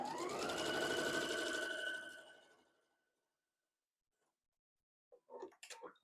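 A sewing machine stitches quilt pieces in a fast, steady whir that spools down and stops after about two seconds, followed by a pause and faint, brief handling noises.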